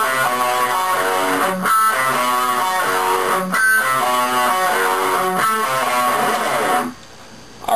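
Heavily distorted electric guitar playing a pre-chorus, loud and close, with repeating phrases punctuated by short breaks about every two seconds before the sound drops away near the end.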